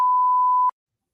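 A steady single-tone redaction bleep, loud and alone, masks a phone number in police body cam audio, holding for about two-thirds of a second before cutting off abruptly into silence.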